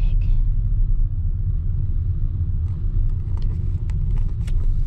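A car creeps along in traffic, its low engine rumble and road noise steady and close from inside the cabin, with a few faint clicks and light sounds near the end and no clear talk.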